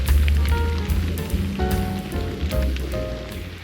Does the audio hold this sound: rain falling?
yes